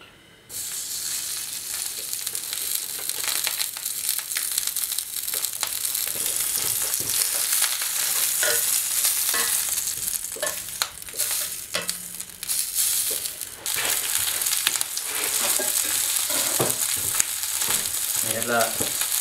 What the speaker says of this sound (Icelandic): Svo er það bara lusciously að láta pylsunar svona maka þeim í olíunni.